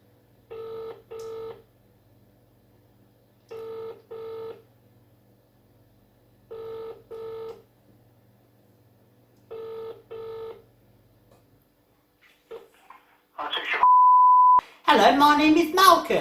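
Telephone dialing tones from a phone call: four evenly spaced bursts of paired keypad beeps over a low hum, followed by a steady tone and then voices talking.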